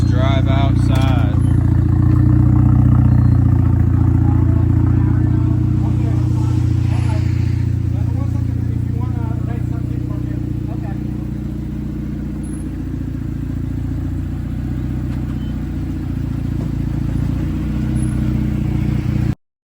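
A Volkswagen Beetle engine drives outside after a stop for gas, its loud, steady low rumble running throughout with brief revving, while people talk over it nearby.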